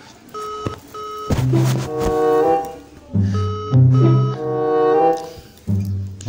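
Phone call ringing tone heard through a handset, repeating bursts of electronic beeping tones in a steady pattern, loud and close, with no talking over it.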